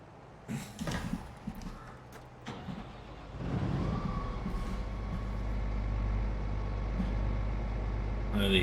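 A harvester's exhaust flap in Farming Simulator 22 clatters in a few quick metallic knocks, then the machine's engine settles into a steady, low, rising rumble.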